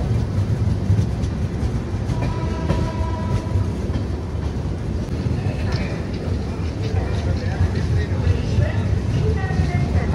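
The Kondaveedu Express, train 17212, pulls into Yelahanka Junction on the South Western Railway with a loud, continuous rumble and rattling of carriages, a murmur of voices blending into the din.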